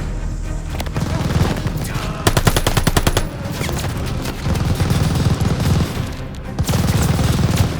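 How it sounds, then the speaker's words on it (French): Rapid machine gun fire in the WWII shooter Call of Duty: Vanguard, a dense burst of evenly spaced shots mid-clip amid ongoing battle noise, with shouted in-game voices around it. "Détruisez cette mitrailleuse!"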